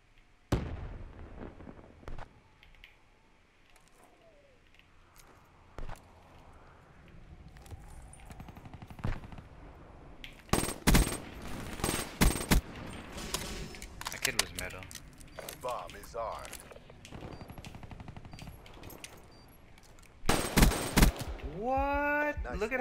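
Bursts of gunfire from a multiplayer video game shooter match, loud sharp volleys in two clusters midway and near the end, with players talking over and between the shots.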